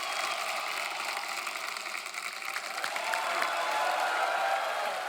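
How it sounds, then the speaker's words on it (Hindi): Studio audience applause on a Hindi TV comedy talk show, dense clapping with some cheering that swells louder partway through, with no talk over it. "एक बार जोरदार तालियां हो जाए।"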